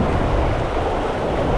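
Steady, loud wind buffets the microphone beside the Weber River, a continuous low roar with no pauses.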